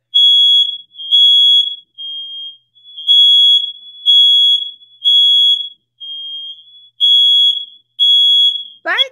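Loud piercing smoke-alarm beeps repeat in a steady pattern of bursts with brief gaps, some bursts shorter than others, with nothing else heard until a sudden cutoff at the end.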